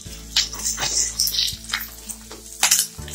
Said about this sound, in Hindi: इस तरफ जो हमारा तेल है इसमें हम डाल देंगे थोड़ा सा करी पत्ता, जीरा और ये हरी मिर्च। इसे अच्छी तरह से थोड़ा सा फ्राई कर लेंगे साइड में।